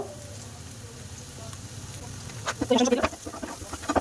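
Chicken meat fries lightly in a pan with chili powder, cumin powder and meat masala, a soft steady sizzle rising into louder crackling bursts near the end, close by.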